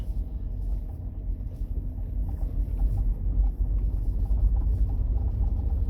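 A 1982 Datsun 280ZX with modified suspension, strut braces and sway bars, driving on an evening road: a steady low engine drone and road rumble with some wind noise, continuous and close throughout.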